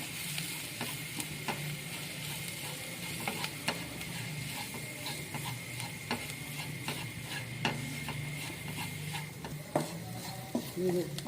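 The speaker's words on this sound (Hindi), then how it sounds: "अब इसमें ये मैदा डाल रही हूँ, इसको भी इसके साथ थोड़ा भून लेंगे" Chopped onion and flour being stir-fried together in a pan, with steady soft scraping and stirring clicks over a faint sizzle, close and continuous throughout.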